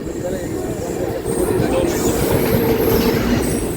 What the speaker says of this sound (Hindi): न्यू बोंगोई गांव से निकलते ही सामने से एक खूबसूरत सा ट्रेन क्रॉसिंग देखने को मिल रहा है